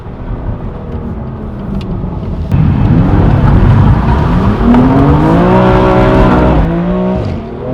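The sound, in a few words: sports car engine accelerating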